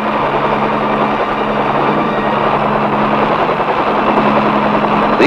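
A military attack helicopter flies during the Vietnam War in 1969, its engine and rotors making a continuous, loud, steady droning roar with a throbbing low hum throughout.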